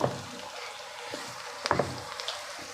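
Cabbage for cabbage palya frying in a pan, a soft steady sizzle with a few sharp clinks and stirring scrapes, close and fairly quiet, no talk.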